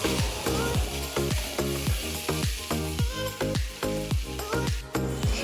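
Taro stolons frying in a pan over a high gas flame while being stirred: a steady sizzle runs throughout, broken by regular knocks from the stirring utensil roughly twice a second, close and fairly loud, with no talking.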